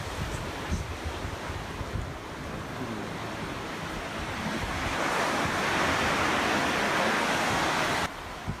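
Ocean surf at Keawetuku Beach on Maui's south shore, a continuous loud wash of breaking waves swelling stronger midway, with wind rumbling against the microphone.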